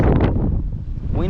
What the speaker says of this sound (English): Wind picking up.